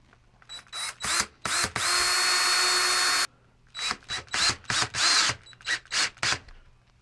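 A power drill drives self-tapping number 2 square-head screws into a Deckorail stair rail in a basement, firing in short whirring bursts with one long steady run in the middle, close and loud, with no talking.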